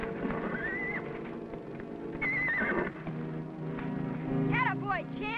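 A stallion whinnies several times, its shrill rising-and-falling neighs standing out clearly alongside hoof clip-clops and speech, with the last call coming in quick wavering bursts.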